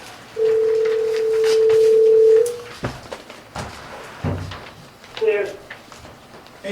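Telephone dial tone over a speakerphone at a town board meeting, a steady loud hum lasting about two seconds, followed by clicks, a clunk and a short beep-like tone.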